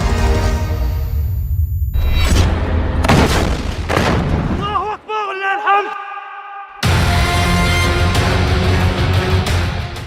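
Booming blasts and bursts from rocket and RPG fire in wartime Gaza, heavy low impacts coming in several bouts across the clip, broken by a short stretch of warbling tones and a brief quieter gap before the loud rumble returns.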